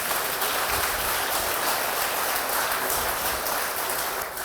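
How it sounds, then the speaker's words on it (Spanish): A church congregation gives sustained applause in praise, a thick, continuous roar of many hands clapping at an even level from start to finish, fading slightly at the very end. "Dale un aplauso al Señor"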